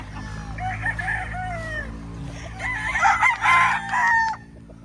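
An eight-month-old gamecock stag crows twice in quick succession, close and clear, each crow a rising then drawn-out call over faint outdoor background.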